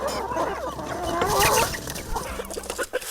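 Chickens clucking on a local poultry farm, a busy overlapping flock close by with steady murmuring clucks and occasional sharper calls.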